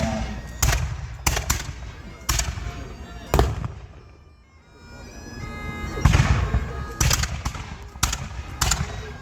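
Historical black-powder firearms firing ball at Fort Ligonier Days, a series of sharp outdoor reports, some spaced singly, others in quick clusters, with a quiet lull in the middle.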